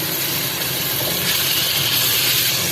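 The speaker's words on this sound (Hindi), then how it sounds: "तो देखिए बस ये भुन रहे हैं" Onion, cumin and ginger-garlic paste sautéing in a pan give off a steady, loud broadband sizzle with no gaps, close by and without any talking.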